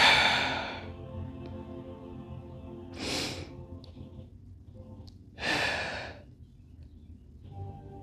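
Deep, slow breaths during a yoga session: three distinct breathy exhales roughly two to three seconds apart, close and fairly soft, with quiet stillness between them and no talking.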